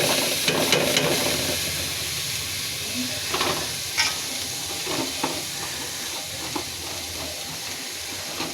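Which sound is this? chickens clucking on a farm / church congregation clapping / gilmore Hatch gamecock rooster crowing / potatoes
potatoes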